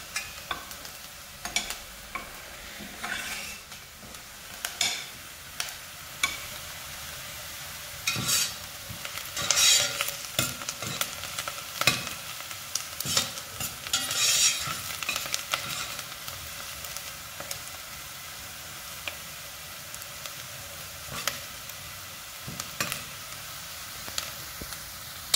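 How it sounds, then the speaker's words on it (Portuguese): Onion sizzles and sautés in a hot pan for lasagna, a steady close frying hiss broken by frequent clicks and scrapes of a spoon stirring, with no talk. "Aqui a cebola já tá ficando douradinha, ó, já vou colocar a carne para refogar."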